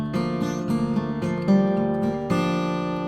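A guitar chord rings out and sustains, with a few notes shifting and re-struck along the way, played alone.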